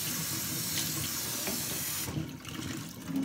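Cold tap water runs steadily into a kitchen sink to rinse freshly drained noodles for a Thai spicy noodle salad, a close, continuous splashing stream that softens near the end.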